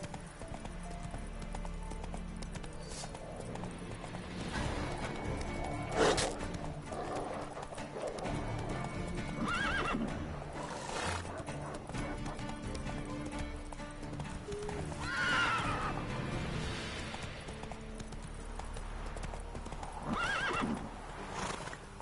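Roach, the horse in The Witcher 3 video game, gallops with steady hoofbeats and lets out several loud whinnies over game music, with a voice speaking briefly.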